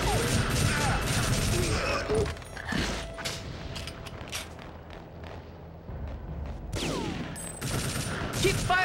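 A custom-built gun fires rapid bursts in TimeSplitters: Future Perfect, loud clattering volleys with mechanical clanks, a quieter lull midway before firing resumes, with game voices speaking over it.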